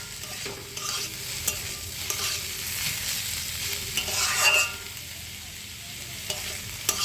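Watermelon rind curry being stirred in a frying pan, a low steady sizzle with intermittent spatula scrapes and light knocks, one brief louder scrape swell midway.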